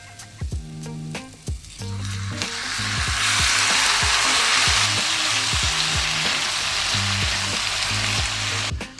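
Okra is dropped into a pan with onion, giving a few knocks and scrapes, then a loud, steady sizzle of frying under repeated stirring clatter.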